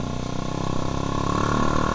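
A Honda CBR150R Repsol Edition, a 150 cc two-cylinder sport motorcycle fitted with a new aftermarket exhaust, runs steadily nearby with a loud, dense engine drone and slight pulsing throughout.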